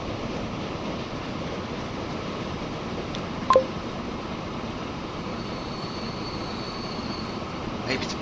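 A train rumbles past with a steady low roll and faint wheel squeal in the Transport Fever 2 railway game, continuous throughout with one brief sharp click midway and no talking.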